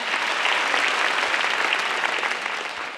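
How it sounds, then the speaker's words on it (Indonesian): Audience applause at a comedy roast, a dense, steady wash of clapping from a large crowd that holds loud throughout and eases slightly at the end, with no talking over it. "Beri tepuk tangan sekali lagi untuk Bang Densu."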